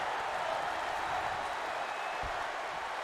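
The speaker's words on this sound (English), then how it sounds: "The crowd are really into this one as well," Wrestling crowd noise from the WWE 2K22 video game, a steady, dense roar of cheering spectators that holds at an even level throughout, with no voices standing out from the wash.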